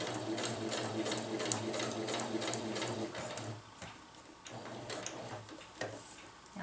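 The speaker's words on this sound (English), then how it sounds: "I'm going to sew down to this mark here." Sewing machine stitching a winter tarp, a fast rhythmic clatter of needle strokes running steadily for a few seconds, then short stop-start bursts; close and fairly quiet, with no talking.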